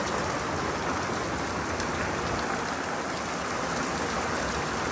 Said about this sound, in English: Good rainstorm.